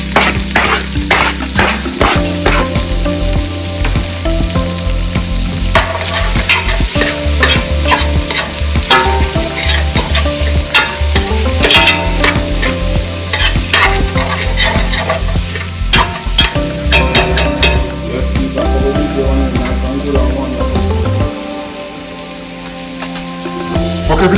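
Onions and peppers fry loudly in a pan alongside sausage, sizzling continuously while a utensil stirs and scrapes in repeated strokes, easing off near the end.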